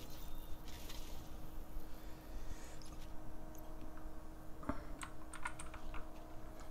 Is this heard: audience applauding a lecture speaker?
no